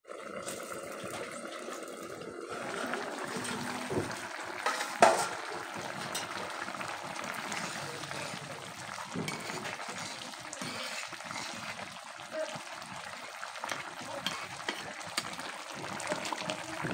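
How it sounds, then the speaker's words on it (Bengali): Pointed gourd and potato curry simmering in water in a pan, a steady close bubbling and sizzling hiss with a few clinks and stirring scrapes. "তাই জল দিয়ে অল্প সময় জাল দিব"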